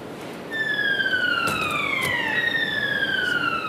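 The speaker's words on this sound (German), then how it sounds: "Die Sirene, ein Achtungszeichen, dass die Anlage wieder anläuft." A loud, steady warning siren in a German postal parcel sorting center wails with slowly falling tones, starting abruptly as the sorting machinery restarts, sounding continuously close by over a rumbling background.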